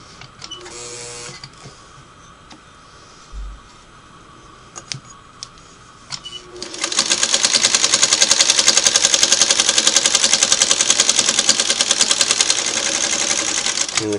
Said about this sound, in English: I'm real happy with the way the machine itself is performing. It's running real smooth.